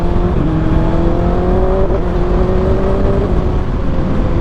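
A motorcycle engine drones steadily at close range with a sustained whirring tone that shifts slightly in pitch, while faint crackles from the exhaust sit within the constant noise. No voices are heard.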